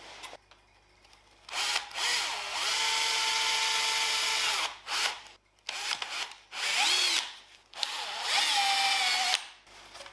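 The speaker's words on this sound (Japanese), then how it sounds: "ここ溶着されてるのが残ってるんでまずここ穴開けます" Drilling holes in a repaired Mazda RX-7 FD3S fender, a power drill whining in several bursts of rising and falling speed with short gaps between, close and clear with no talk.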